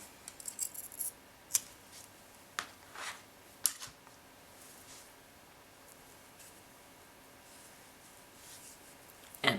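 Scissors snip beading thread in several short, sharp clicks spread across a quiet room, close and crisp, with a final snip at the end.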